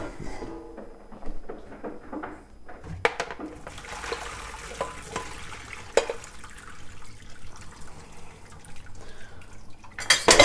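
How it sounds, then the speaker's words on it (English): Cooked pappardelle is strained in a kitchen, with water pouring and splashing, dripping and a few clanks of the pot and colander. "And we got our pappardelle cooked. We're just going to strain that off."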